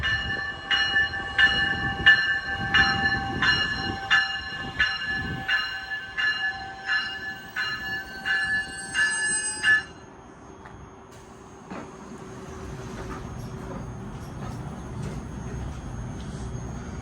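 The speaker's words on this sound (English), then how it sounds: "Metra Electric coming out of Millennium Station, heading to University Park." A Metra Electric double-decker electric multiple unit passes close by, its rhythmic ringing crossing bells giving way to a low rolling rumble of the train on the rails.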